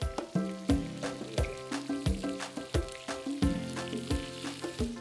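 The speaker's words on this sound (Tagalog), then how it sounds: "Lagay ko lang yung ating bawang tsaka sibuyas." Garlic and onion dropped into a hot pan where meat is browning, with a crackling sizzle and repeated clinks and taps of a utensil against the pan in a rough rhythm.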